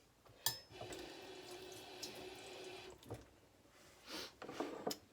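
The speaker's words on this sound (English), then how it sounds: "And let me rinse that." Tap water runs steadily into a kitchen sink while something is rinsed in a chickpea salad kitchen, a broad hiss lasting a couple of seconds with brief splashes and clatter around it, close and moderately quiet.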